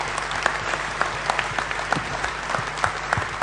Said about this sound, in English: we want to give them a warm round of applause